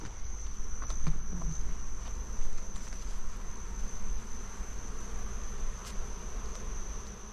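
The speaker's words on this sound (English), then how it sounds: "A lot of bees are out foraging" Steady, low insect buzzing fills the air throughout, a continuous hum with a faint high whine running over it and no voices.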